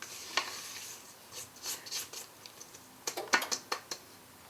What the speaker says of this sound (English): We'll just scrape down our sides so that it's blended better.